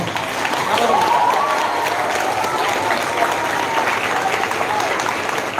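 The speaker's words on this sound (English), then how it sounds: "So please give him a bigger round of applause" An audience at a school event applauds a speaker, a steady, dense wash of clapping from a crowd. A voice can be heard faintly through the applause.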